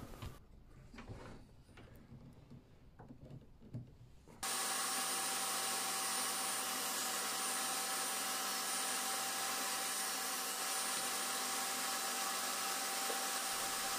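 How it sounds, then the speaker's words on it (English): A table saw set at a 30-degree angle bevels a piece of pallet wood, its loud steady whine starting abruptly after a few seconds of quiet shop noise and holding without a break. "I then move over to the table saw and I set the table saw at an angle of 30 degrees."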